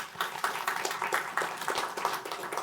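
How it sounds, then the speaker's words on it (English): Audience applause at a panel event on national data privacy law, a brief burst of scattered clapping from a modest crowd, fairly faint and distant. "Let's give her a round of applause."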